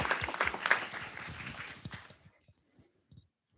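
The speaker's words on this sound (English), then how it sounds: "Round of applause for Aisha." An audience at a youth engagement event applauds, a soft, moderately distant patter of many hands that fades out over a couple of seconds, leaving only a few scattered claps and near silence.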